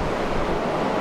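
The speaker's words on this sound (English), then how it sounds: "on a very windy day here" Strong wind buffets the microphone on a very windy day beside a railway line, a steady, loud, close roar filling the short span with no talk.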